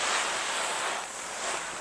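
A low-pressure garden hose sprays water over a two-person Tenplay tent, giving a soft, steady hiss of spray pattering on the fabric, close and unbroken.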